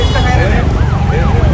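Illegal police-style sirens fitted on cars wail in repeated rising and falling sweeps amid road and traffic noise, moderately loud and partly masked by a voice talking over them.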